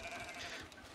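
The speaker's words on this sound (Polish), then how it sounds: "tu mamy kozy, zagroda dla kóz" Goats in a pen in the farming game Farmer's Life give a short, close bleat that is heard alone.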